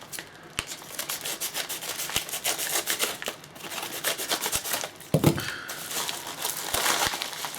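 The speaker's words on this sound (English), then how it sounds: "We got ourselves another manila envelope here." A manila envelope is handled and opened up close, giving steady papery crinkling and rubbing with a few sharp ticks and a louder rustle near the end, with no talk.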